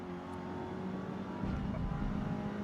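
A race car engine in a racing video game hums low and steady, then swells louder about halfway through as the revs climb, sitting fairly quiet in the mix.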